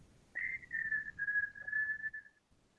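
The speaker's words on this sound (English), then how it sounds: "Is that you whistling?" A single sustained whistle, fairly quiet, holds one wavering note for about two seconds before fading out.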